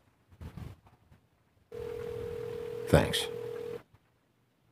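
Telephone tones in the Android video game The Wolf Among Us: a steady electronic ring or dial tone holds for about two seconds, with a brief spoken word just before it.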